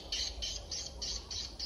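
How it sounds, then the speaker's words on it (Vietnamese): Swiftlets feeding around a swiftlet house call in a steady run of shrill, chirping bursts, about six sharp squawks repeating evenly at moderate distance over low background hum. "Đây là toàn bộ chim mà đang đi ăn ở khu vực này, nghe âm là cái hóng hóng."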